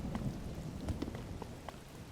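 Steady rain and a thunderstorm in the video game Zelda: Tears of the Kingdom, a continuous hiss of rainfall with a deep rumble of thunder beneath it and no voices.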